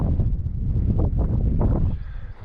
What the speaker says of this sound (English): there's a wee bit of a wind that's a bit cold